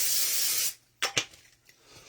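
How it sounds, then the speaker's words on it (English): Cooking spray hisses steadily onto a pan for under a second, then a few faint clicks and taps follow in a quiet kitchen. "I gotta spray this before it gets too hot and catches fire from spraying it"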